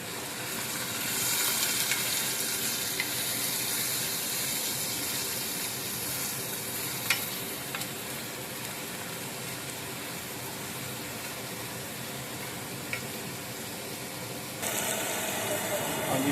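Large onions fry in olive oil in a pan, a loud, continuous sizzle with occasional crackles, heard close up and steady throughout.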